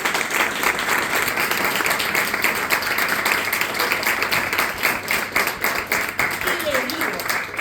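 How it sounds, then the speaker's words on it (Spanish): An audience at a university engineering project defense applauds an engineer, a dense steady patter of many hands clapping, moderately loud, with voices talking faintly underneath. "así que tenemos que aplaudir."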